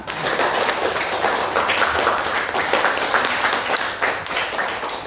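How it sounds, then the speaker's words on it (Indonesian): A classroom of students applauds after group presentations, dense steady hand clapping from many people filling the room for about five seconds, no talk over it. "Tepuk tangan dulu untuk kita semua"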